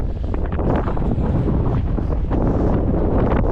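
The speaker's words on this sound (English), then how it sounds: "It's windy up here." Strong gusting wind on a mountain summit buffets the microphone in a continuous loud rumble, with no voices.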